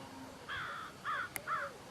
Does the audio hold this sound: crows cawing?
yes